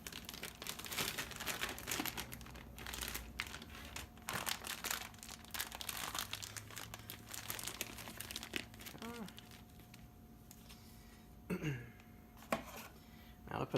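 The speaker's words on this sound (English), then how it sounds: "So that's 2 layers of plastic wrap and aluminum foil. And I put it in a quart size freezer Ziploc bag." Close, busy crinkling and rustling of plastic wrap and aluminum foil being wrapped around a McDonald's Bacon Smokehouse Burger, with crackly bursts and soft tearing sounds continuing throughout amid a steady background hum.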